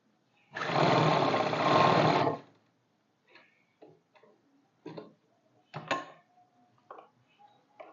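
A sewing machine stitches elastic onto the waistband of straight-cut trousers, with one long steady run of close stitching followed by short, slow bursts and ticking pauses.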